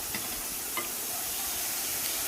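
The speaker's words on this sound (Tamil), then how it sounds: "அப்புறம் ஒரு சின்ன தக்காளி ஒன்று போட்டு அதையும் நல்லா வதக்கிக்கோங்க" Green chillies, curry leaves and tomato sautéing in a pan for chicken kulambu, a close steady sizzle with a few soft stirring clicks.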